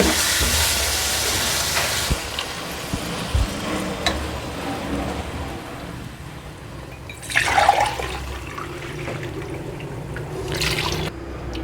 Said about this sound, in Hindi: अब इसके अंदर मैं 3 गिलास पानी के डाल रही हूँ।